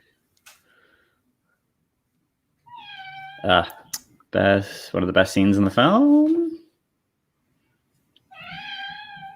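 A cat meows several times nearby, drawn-out plaintive cries, alongside someone talking and some clicking.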